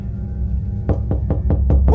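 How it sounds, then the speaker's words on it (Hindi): A door in an animated cartoon is knocked on, with six sharp, evenly spaced raps following a quiet hum. "इनका कोई दरवाजा खटखटाने लगा।"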